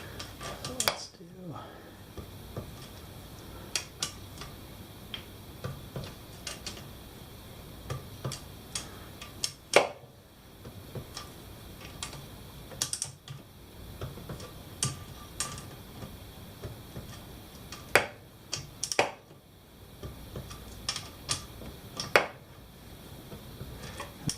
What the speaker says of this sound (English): with the torque wrench, you don't want to be going, oh, there it popped. You want to have a nice smooth movement and have it go click and then stop.